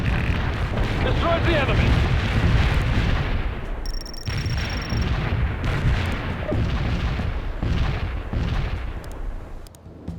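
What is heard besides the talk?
mortar barrage explosions in video game World in Conflict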